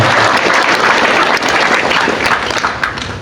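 Loud, dense audience applause at a gathering, a continuous crowd of clapping hands that stays strong for several seconds and eases slightly toward the end.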